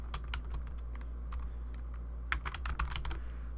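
Quiet, close typing on a computer keyboard, a quick irregular patter of key clicks that thickens into a denser burst near the end, over a low steady hum.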